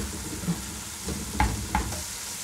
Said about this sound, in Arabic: انا بحب دايما استخدم الخشبه دي اللي هي كده دي في اللحمه المفرومه يا جماعه، بتساعد جدا